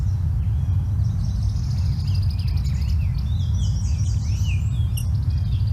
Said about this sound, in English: this is the call of the rose-breasted grosbeak.